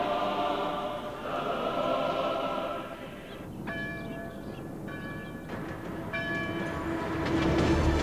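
A Trans-Siberian Railway train runs steadily with a continuous rumble, while tonal metallic squeals and horn-like notes rise and fall over the rolling noise.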